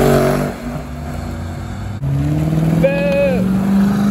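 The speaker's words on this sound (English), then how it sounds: "E63 wagon." Mercedes E63 wagon accelerating hard close by, engine note climbing through a gear change with a rising tonal whine, loud over crowd chatter and talk at a cars and coffee event.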